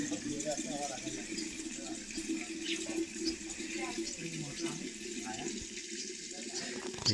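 Water pours steadily into a metal handa pot at a village tap in Konkan, a continuous gushing fill under nearby voices and chatter.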